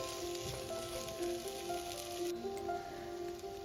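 Carrots, potatoes and green chillies sizzle steadily in a hot pan while being stirred, a constant close frying hiss with faint scraping and no talk.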